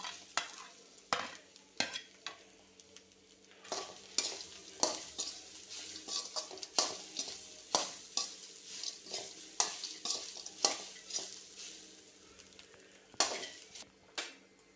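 Chopped ripe plantain frying in a pan, a steady sizzle broken by regular scraping stirs and light clinks of the utensil against the metal, close and fairly quiet with no voices.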